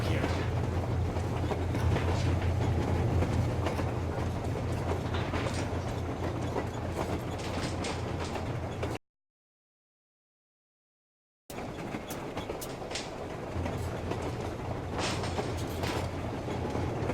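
In the video game Metro Exodus a train rolls along a railroad with a continuous low rumble and steady rhythmic clatter, briefly cut to silence midway before resuming.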